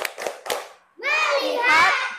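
In a classroom, children do a rhythmic focus clap: a few quick, sharp claps in a row, followed by young voices chanting together loudly and close.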